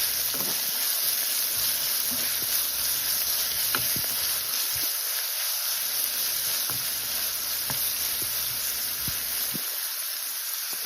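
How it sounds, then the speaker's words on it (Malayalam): Beetroot sautéing in a pan for a moru curry, a steady close sizzle and frying hiss with faint stirring clicks throughout, no talk. "ബീട്രൂട്ടൊക്കെ നമുക്കൊന്ന് വാട്ടിയെടുക്കാവേ."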